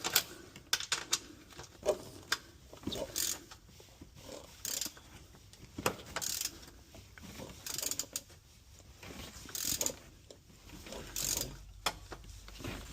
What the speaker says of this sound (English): We're going to just crack this guy loose.